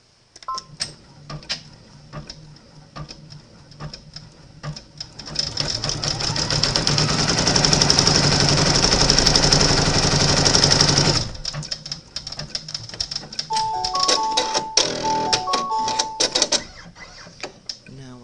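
Embroidery sewing machine stitching a baby lovey blanket in the hoop, a steady fast mechanical whir running for several seconds between quieter ticking and handling, with a voice talking at times.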